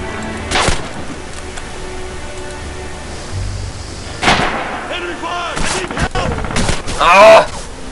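Gunfire in Red Orchestra 2 during a Stalingrad battle at Pavlov's House, with several sharp loud bursts and cracks spread across the scene over a rumbling background, and some shouting voices in between.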